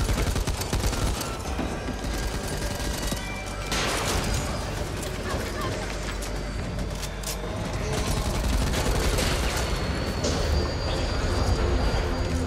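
Dense machine gun fire from the zombie shooter Back 4 Blood, rattling continuously over the whole stretch amid other game noise and bursts, with voices talking over it.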